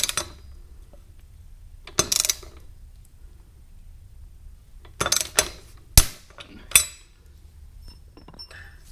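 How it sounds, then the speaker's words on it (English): A torque wrench tightening a bolt on a homemade dock for a hitch-style bike rack: a few sharp metallic clicks and clinks in separate bursts with quiet gaps between them, close by. "now I'm tightening, and it says to torque it to 55 foot-pounds"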